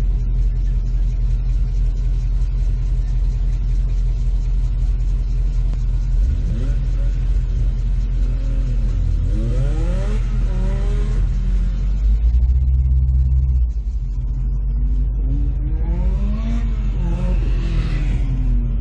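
Stock G-body car at an autocross, its engine rumbling loudly near the line and rising in pitch through several revving climbs, with a person talking over it.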